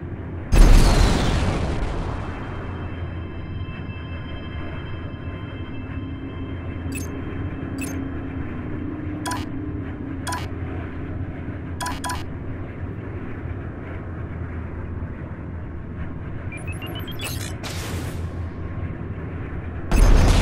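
In Strike Suit Zero, a loud blast opens a space battle with missile fire, a long low rumbling hum follows, brief electronic tones and bursts are scattered throughout, and another explosion hits at the very end.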